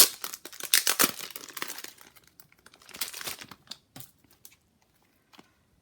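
Plastic wrapping is torn and peeled off a Hobonichi planner at close range, a burst of loud crinkling and ripping that thins into scattered rustles and small crackles before falling quiet.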